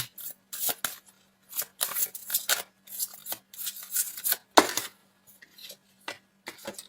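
Tarot cards being shuffled and drawn, with a run of short, crisp flicks and slaps of card stock at close range, one sharper snap near the middle, with no talk.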